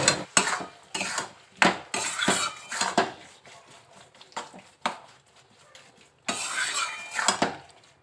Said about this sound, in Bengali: এটা এখন ভালো করে আমলকিগুলো এর সঙ্গে মাখানো হবে